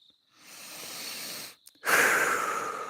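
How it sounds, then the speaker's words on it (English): Deep, slow breathing during a guided meditation: a long breathy inhale, a brief pause, then a louder, rushing exhale, close and alone with no talk. "Follow the prana in your breath as you inhale and exhale."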